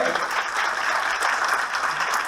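A conference audience at a human trafficking awareness event claps loudly and continuously, a dense even wash of hands throughout.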